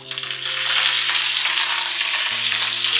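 Garlic, dried red chillies and curry leaves hiss and crackle in hot oil for sambar tempering, a loud, steady close sizzle with a faint hum underneath and no voices.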